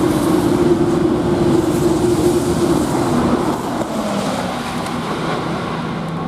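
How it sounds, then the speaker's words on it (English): A Eurostar train passes through Ashford International station, a loud, steady rushing rumble with a sustained tone at first that eases slightly as it goes by, no voices. "That was the Eurostar train"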